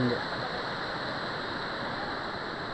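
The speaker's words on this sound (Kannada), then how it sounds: "ಇಲ್ಲಿ ನೋಡಿ ಹೆಂಗೆ ಬರ್ತಾ ಇದೆ ನೀರು" Water pours steadily down Hebbe Falls in Chikmagalur, a constant broadband rush heard close and loud throughout, with no pauses or separate splashes.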